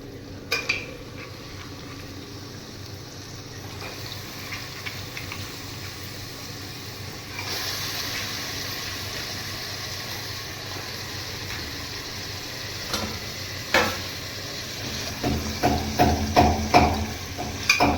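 Mutton going into hot, oil-released tadka in a home kitchen pan, with scraping stirs, clattering utensil knocks and a low frying hiss, growing busier toward the end; no talking.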